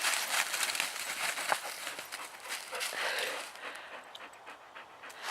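A dog pants rapidly and steadily, close by, on a rocky, winding hiking trail, with faint footsteps and rustling under the breathing.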